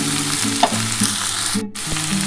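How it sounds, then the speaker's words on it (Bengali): Shrimp frying in a pan for a Bengali ridge gourd, potato and poppy seed dish, with a steady sizzle and stirring scrapes across a short stretch, plus a low tonal hum underneath. "ঢাকা দিয়ে যদি চিংড়িটা ভাজা যায় না একটু নরমও হবে"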